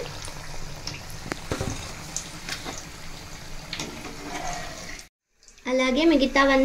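Stuffed mirchi bajji chili fritters frying in hot oil, a steady bubbling sizzle running under a voice for about five seconds, then a brief silence before louder voices and music take over.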